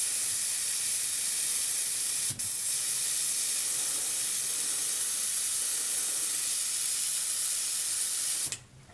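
A pressurized nozzle on a model ship setup gives off a loud, steady hiss of spray that breaks briefly once and then cuts off near the end.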